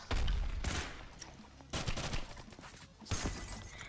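Gunshots in the Roblox game Ragdoll Universe crack in three quick bursts of shots, each followed by a short fading rumble, fairly faint overall.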